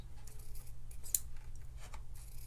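Scissors trimming ribbon ends on a gift bag, one short crisp snip standing out in the middle against a low steady hum, close and faint.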